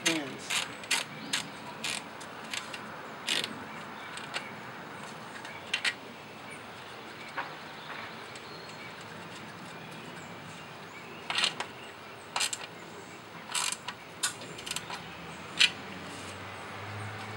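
Condenser fan on a Fujitsu mini-split being tightened on its shaft, heard as faint scattered ratchet-like clicks and metallic ticks over a low steady background hum.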